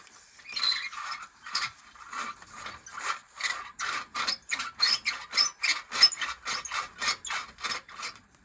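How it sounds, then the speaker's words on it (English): A Lionel 364 lumber loader with dirty, dry rollers, giving a rhythmic scraping rasp that repeats roughly twice a second and speeds up slightly, close and moderately loud with no voices. "The rollers are causing a lot of friction."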